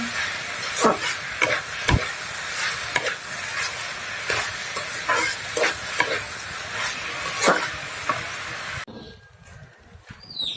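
Cauliflower pieces frying in a pan, with a steady sizzle broken by repeated scraping stir strokes at close range, no talking, ending abruptly near the end.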